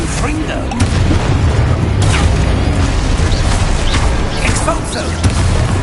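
Heavy booming blasts and rumbling low-end impacts from Confringo spell explosions in the Hogwarts Legacy video game, dense and loud, running continuously with sharper cracks layered over the roar.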